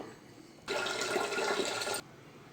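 Tap water gushes into a pressure cooker holding washed toor dal, a steady rushing pour lasting just over a second, then cutting off abruptly, with no voices.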